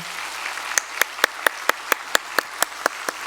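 A church congregation at a Sunday service claps to welcome a new member. The claps are sharp and evenly spaced, keeping a steady unison rhythm over a soft room hiss, with no talking.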